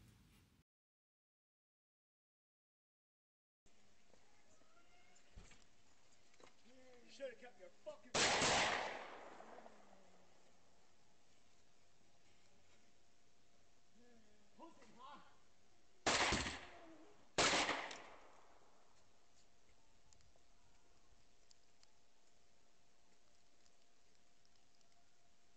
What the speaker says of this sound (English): The second time, Spade returns with an assault rifle to attack the couple once more